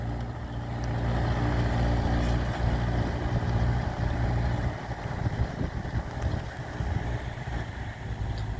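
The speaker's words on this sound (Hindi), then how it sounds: "ये देख सकते हैं हैरो कितनी बढ़िया चला रहा है ट्रैक्टर" Mahindra 575 DI tractor pulling a harrow through a wet field before sugarcane sowing, its diesel engine giving a steady low rumble throughout, moderately close, with no voices.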